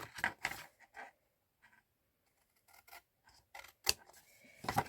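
Scissors trimming card paper for a double gatefold card make sharp, short snips in a few separate bursts with quiet gaps between, close and fairly faint, with no talking.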